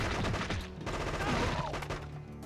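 Bursts of video game gunfire in a PS2 first-person shooter, Cold Winter, crackle loudly in rapid, dense volleys across most of the stretch, with a steady low hum running underneath and no voices.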